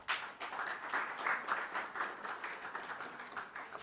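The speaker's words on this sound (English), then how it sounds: "Let us all welcome the authors with a round of applause" Audience applause welcomes the authors at the IIAS-DARPG India Conference 2025, a moderate, steady patter of many hands clapping with a slight rhythmic pulse, heard from a distance in a hall.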